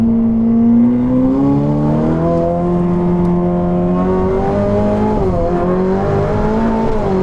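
A Ferrari supercar engine in Race mode revs and holds a rising, smooth mechanical tone with turbo whir, loud and close, alone without talk for several seconds.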